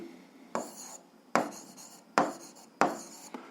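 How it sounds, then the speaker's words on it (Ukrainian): Handwriting on paper while working an algebra exercise: four distinct, evenly spaced strokes of pen scratching, each starting with a crisp onset and trailing off, close and quiet with no talk. "Записуємо."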